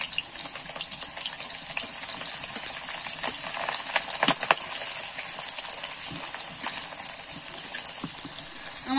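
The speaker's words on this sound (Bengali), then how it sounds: "সেই পেঁয়াজ দুটো কিন্তু আমি ভালো করে ভেজে বেরেস্তা করে নেব।" Two small sliced onions fry in hot oil over a high flame, making a continuous hissing sizzle with scattered crackles and occasional stirring, steady and fairly quiet, with no talk.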